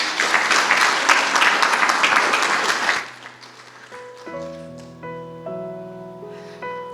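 Church congregation at a Christmas service applauds the actors, a loud, dense burst of clapping for about three seconds that cuts off and gives way to sustained organ or keyboard tones.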